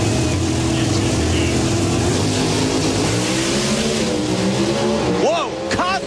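Pro Stock drag racing cars at the 2005 Gatornationals roar loudly down the strip in a sustained engine blast, with rising pitch sweeps near the end as a commentator talks excitedly over them.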